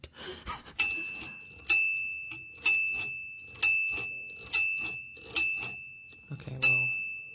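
The carriage bell on a Torpedo 18B typewriter rings out six clear, bright dings at steady intervals, each one decaying, with faint mechanical clicks between them.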